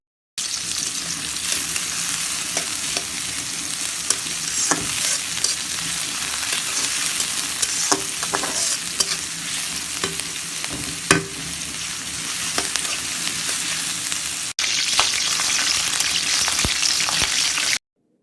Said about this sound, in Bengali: পেঁয়াজ কুচিগুলো এইভাবে নেড়ে চেড়ে হালকা বেজে নিব